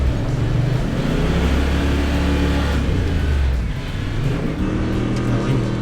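A 4-ton 4WD truck engine labouring in deep mud ruts, a loud continuous low drone that rises and dips as the revs change, close up with no talk over it.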